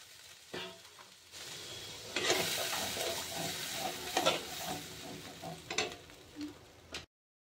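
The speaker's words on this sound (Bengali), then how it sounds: "মশলাগুলি কষানো হয়ে গেলে খানিকটা পরিমাণ জল দিয়ে দিচ্ছি।" Water is poured into a pan of frying poppy-seed spice paste, a burst of loud hissing sizzle that swells and fades over several seconds, with occasional stirring clatter, then stops abruptly.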